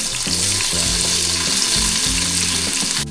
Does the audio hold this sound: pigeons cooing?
no